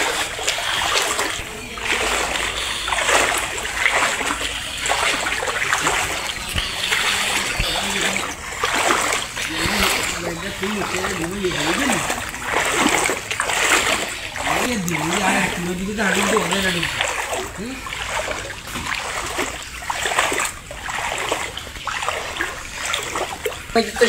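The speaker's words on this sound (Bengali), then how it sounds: "ঘরের ভিতরে পানি উঠে গেছে। ঘরের ভিতরে পানি" Floodwater inside a flooded village house in Ramganj, Lakshmipur splashes and sloshes in repeated rhythmic surges, like wading, close and loud, with voices speaking over it throughout.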